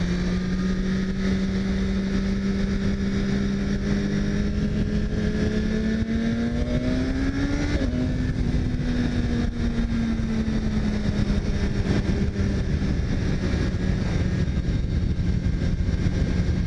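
A 2017 BMW S1000RR motorcycle engine drones steadily on the road, its pitch climbing as it accelerates, dipping briefly at a shift, then holding a sustained loud hum with wind noise throughout.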